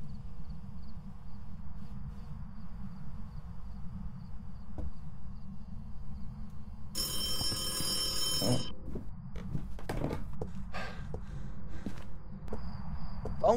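A telephone rings inside a ghost-hunting video game, a burst of bright repeated bell tones lasting about two seconds over a steady low ambient hum, with faint footsteps and clicks following.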